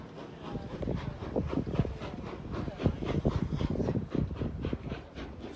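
A steam train pulls away in a steady chuffing rhythm of broad, repeated exhaust bursts with hiss, fairly close and moderately loud, no voices over it.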